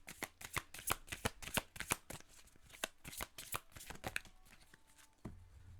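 Oracle cards being shuffled by hand in rapid riffling bursts, a dense run of crisp papery flicks that pauses briefly before a final louder shuffle, close up and with no talking.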